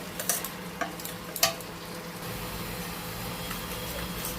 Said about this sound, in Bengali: টমেটো পেস্ট দিয়ে দিচ্ছি দিয়ে মশলা এখন ভালো করে কষতে থাকবো